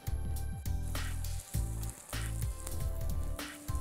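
Lentil burger frying in a pan, a steady close sizzle with brief crackling bursts and short pauses, no voices.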